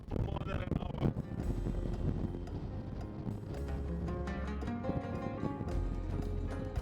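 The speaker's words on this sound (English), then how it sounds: "Wind will not stop for more than an hour." Strong wind buffets the microphone on the Pamir Highway, a continuous low roaring rumble with gusty surges that never lets up, loud and close, no voices.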